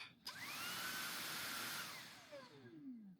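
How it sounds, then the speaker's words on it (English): A Dreame R20 Pure cordless car vacuum switches on with a sharp click and runs at a steady high-pitched whine with a rising motor tone, then spins down with a falling pitch, close and alone. "it's going to keep the vacuum on until I click the trigger again"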